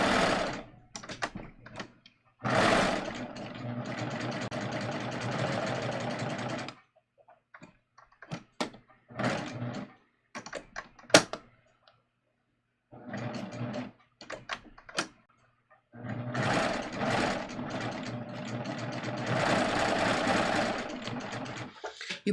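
A sewing machine slowly stitching the faced edge of a garment, bursts of steady motor whirring separated by quiet pauses and small clicks as the presser foot is lifted, close and fairly soft with no speech.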